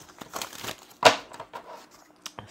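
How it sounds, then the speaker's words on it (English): A hillbilly tarot deck being shuffled by hand, quiet papery riffles and taps of cards close up with one sharper snap partway through, with no talking. "we're gonna shuffle this out"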